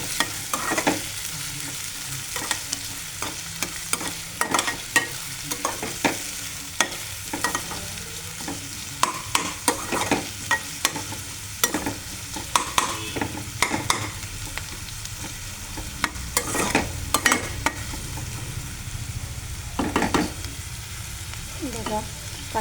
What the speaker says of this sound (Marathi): कांदा चांगला परतून घ्यायचा, चांगल्या रंगावर येईपर्यंत.